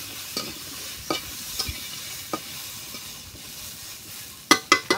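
Vegetables, potatoes and beans being stir-fried in a pan give a low sizzle, broken by sharp clacks of a utensil scraping and stirring, a few spaced knocks and then a quick cluster near the end.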